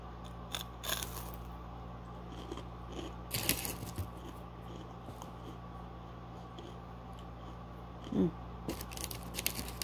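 Crisp bites into a churro with chocolate sauce, a few sharp crunches and scrapes scattered over a quiet background, with a louder bite near the start and another crunchy burst toward the end, close up and without talk.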